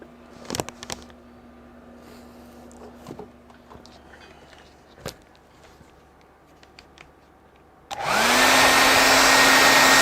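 Soft rustles and light taps lead into a hair dryer drying paint. The dryer switches on suddenly near the end as a loud, steady, close whoosh with a rising whine.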